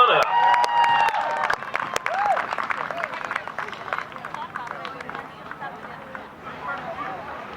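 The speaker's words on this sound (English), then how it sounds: "keep clapping" A comedy club audience at a Fourth of July stand-up show breaks into loud applause and cheering, with a few whistles and shouts at first. The clapping stays thick, then thins gradually toward the end.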